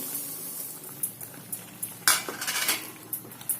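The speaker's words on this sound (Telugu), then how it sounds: "ఇప్పుడు మనం వేయించి పెట్టుకున్న ఈ రవ్వనేసి కలపండి" A spoon scrapes and clinks in a pot as roasted semolina is stirred into boiling water, with soft bubbling under scattered metallic taps and a louder stirring burst midway.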